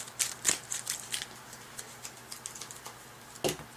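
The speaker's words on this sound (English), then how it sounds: "shuffle up your discard pile." Playing cards from a discard pile in the Thunderstone Advance: Towers of Ruin deck-building board game, shuffled with quick soft papery riffles and taps, a couple of sharper flicks near the start and end, fairly quiet and close.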